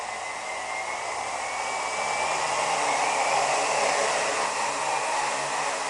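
Quadcopter motors spin up and hold a steady high whirring drone, close and loud, swelling slightly as the throttle rises, with no voices.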